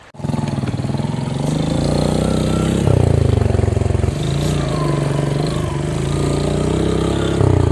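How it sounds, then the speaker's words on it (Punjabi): A motorcycle is ridden into the water of the Ghaggar river. Its engine runs close and loud with a steady throbbing hum, its pitch rising and dipping a few times as the throttle shifts. "ਮੁੰਡੇ ਗਏ ਸੀ ਮੋਟਰਸਾਈਕਲ ਕੱਢ ਕੇ ਵਿੱਚ ਲੈ ਕੇ ਗਏ ਪਾਣੀ ਦੇ"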